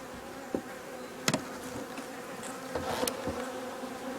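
Honeybees hum steadily at an opened beehive that is not heavily populated, a close continuous buzzing with a few sharp knocks and taps of hive equipment, and no talking.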